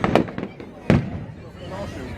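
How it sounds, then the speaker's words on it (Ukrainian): Bonfire night fireworks in Bury St Edmunds: two sharp loud bangs about three quarters of a second apart, followed by a fading crackle and rumble. "Салют."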